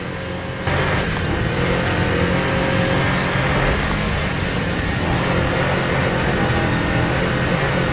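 A Toyota Celica Turbo engine in the video game Gravel drones loudly and steadily from the dashboard camera view, rising in pitch as it accelerates, with no voices.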